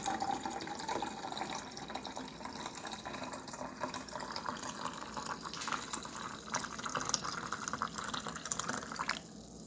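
Dark coffee pours steadily into a container, a soft continuous liquid trickle and splash that stays fairly quiet and unbroken for the whole stretch.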